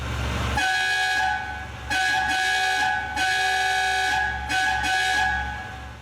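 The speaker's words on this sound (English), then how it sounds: "Let's start with the horn, which is an old, ridiculous Italian air horn." A loud, brassy air horn, an old Italian air horn on a Ferrari 575M, blasts four times in a row, each long honk separated by a brief pause.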